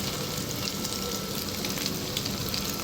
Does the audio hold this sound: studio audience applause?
no